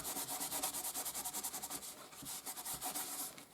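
Kitchen roll buffs over a heat-embossed card to lift off excess Distress Oxide ink, making a quiet rhythmic rubbing and scuffing, close up and with no voices.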